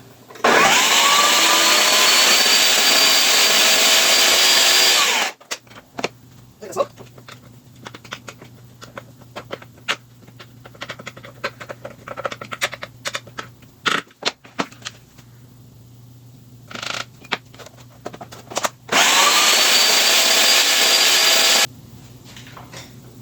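A blender grinds dry walnuts into walnut butter, running loud and steady in two bursts of about five and three seconds, with quieter clattering, tapping and a low hum in the pause between them.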